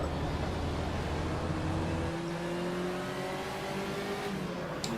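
Race car engine in the Automobilista sim at Ibarra, a hot car, droning steadily and then shifting early, its pitch dropping and climbing again through close, continuous engine tone.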